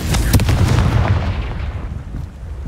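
One loud, booming fiery explosion from the Confringo spell in Hogwarts Legacy, near and heavy, then a rumbling tail that slowly fades over a couple of seconds.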